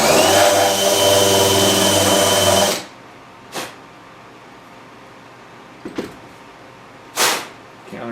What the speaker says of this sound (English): Countersink them suckers and that's ready.